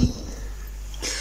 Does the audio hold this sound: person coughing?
yes